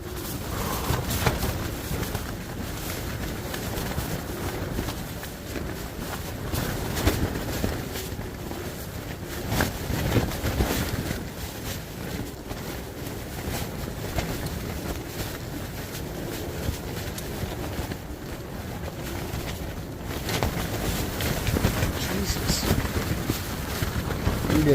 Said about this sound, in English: I'm getting some fucking ripping wind right in here, probably like 30 miles, 40 miles an hour.